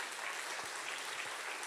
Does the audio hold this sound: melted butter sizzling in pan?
no